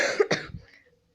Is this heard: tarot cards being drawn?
no